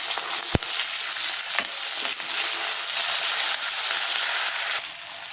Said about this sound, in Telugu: ఆయిల్ హీట్ ఎక్కింది కదండి. పచ్చిమిర్చి, కరివేపాకు వేస్తున్నాను నేను.